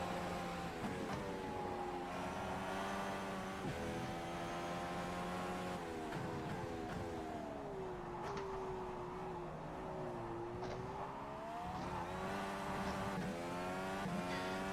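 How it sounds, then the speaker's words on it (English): A new rally drift car in the racing sim rFactor 2, its engine droning at moderate level with smooth rising and falling revs as it accelerates and eases off, steady and unaccompanied by speech. "it is a new rally drift car"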